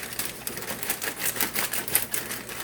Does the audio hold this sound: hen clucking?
no